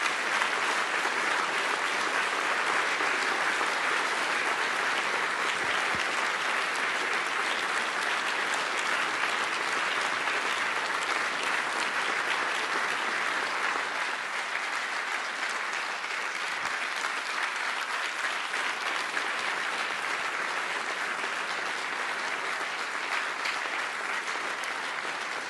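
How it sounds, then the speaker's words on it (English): A huge round of applause in a room during a press conference in Poland, sustained and even for over twenty seconds, a dense wash of clapping heard at a moderate distance. "I hope you can hear the huge round of applause that your words have brought about, echoing through this room"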